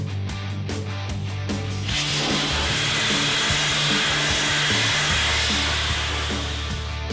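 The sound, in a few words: Dustless Blaster removing paint from a concrete mixer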